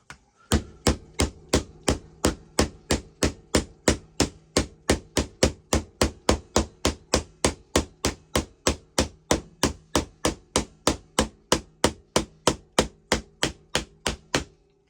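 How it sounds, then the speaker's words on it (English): A small hammer on a DIY multitool drives a panel pin, striking repeatedly in a steady, fast rhythm, about forty sharp metallic taps, close and loud, with no voices. "let's check out the little hammer. Put a little panel pin"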